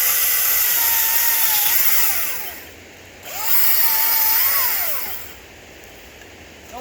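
ECHO DCS-2500T 56-volt battery electric chainsaw cutting through a 2–3 inch log: a steady, loud motor whine that dips and rises in pitch across two cuts, with a brief lull between them.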